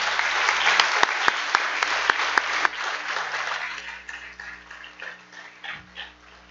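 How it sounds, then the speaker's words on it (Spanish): A church congregation applauding at a Spanish-language service, loud dense clapping with a few sharp distinct claps early on, gradually thinning and fading toward the end with light rustling. "Denle un aplauso al Señor fuerte."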